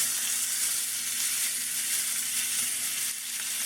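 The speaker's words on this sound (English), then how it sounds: "what we want to do is sear it on both sides" Tri-tip steak searing in a hot pan, a continuous close, even sizzle that holds steady throughout with no voices.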